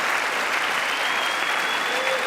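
Dense, steady applause from a large audience in the House chamber during the State of the Union address, a continuous roar of many hands clapping with cheering blended in, holding evenly from start to finish.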